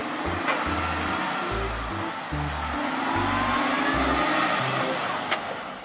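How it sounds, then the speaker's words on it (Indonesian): A long dump truck trailer passes on the road, a loud continuous engine whine and rumble with shifting low tones, steady and near throughout, no talk. "Ini dump truk trailer teman-teman."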